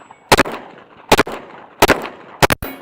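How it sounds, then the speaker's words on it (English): Four sharp, loud gunshots from a SIG Sauer P320 X10 Endure pistol, fired at an unhurried, spaced pace with the last two close together, each with a short ringing decay. "when you take your time, you aim, you can shoot this thing just fine."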